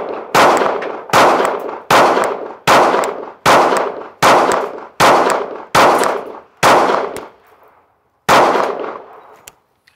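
Sig Sauer P365 pistol firing aluminum-case rounds: nine sharp, loud shots in a steady rhythm about a second apart, each one ringing off. After a short pause a tenth shot follows alone.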